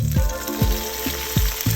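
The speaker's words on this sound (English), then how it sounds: "All right, you hear that sizzle?" Chicken and vegetable mixture sizzles in vegetable oil over high heat for fried rice, a close, steady crackling fry broken by a few sharp hissing bursts, probably from stirring, and no voices.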